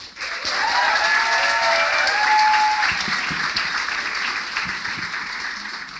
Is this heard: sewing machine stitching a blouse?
no